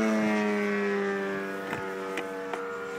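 A 500-size RC AH-1 Cobra helicopter runs up with a steady electric whine that slowly drops in pitch, loud and close, with a few faint clicks near the end.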